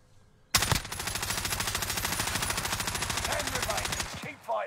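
Rapid sustained machine-gun fire in a video game, one long loud burst of evenly spaced shots lasting several seconds before cutting off, with brief faint sounds after.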